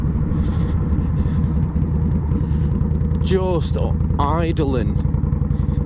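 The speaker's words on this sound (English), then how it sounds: "idling this bike, you can't hear yourself think it's quite possibly the loudest bike I've ever been on" A loud Indian Scout cruiser motorcycle engine idles with a steady, deep throbbing rumble throughout, while a person speaks briefly over the noise.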